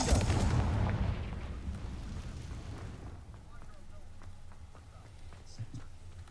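A loud blast from the Confringo fire spell in Hogwarts Legacy booms at the start, then fades into a rumbling decay. Faint game sounds fill the tail.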